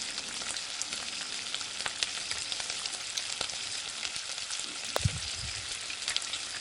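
Sliced onions fry in a pan with ginger, garlic and dried chilli paste, giving a constant dense sizzle close by. A few louder scrapes and clatters come near the end, and nobody speaks.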